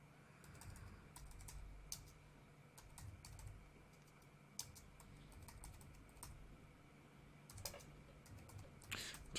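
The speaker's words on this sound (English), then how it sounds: "Just typing in all the credentials I need to add in." Quiet, irregular tapping of keys on a computer keyboard while entering account details, with scattered clicks and brief faster bursts over a faint steady hum.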